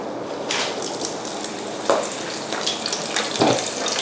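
Shrimp coated in breadcrumbs sizzles as it goes into very hot oil for deep-frying, a steady hissing crackle with a couple of brief louder spatters.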